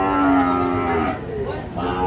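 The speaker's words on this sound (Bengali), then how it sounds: "সবই শাহিওয়াল ষাঁড় বাছুর।" Sahiwal bull calves at a livestock market lowing with a long drawn moo, then shorter follow-up calls, close and fairly loud over a busy market murmur.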